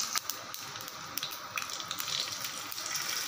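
Hot oil tempering with mustard seeds, urad dal and curry leaves poured into a spicy chutney, a brief hissing sizzle with scattered crackles and pops, steady and close, no talk.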